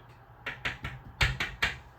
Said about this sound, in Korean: 이렇게 뭐 걸어다니는 소리가 들리는 거야.